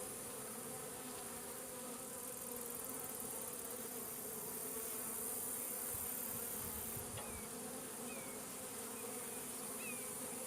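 Honeybees hum steadily around an open hive during an inspection and Apivar treatment for varroa mites, a dense, continuous, close-up buzz with faint chirps drifting through it.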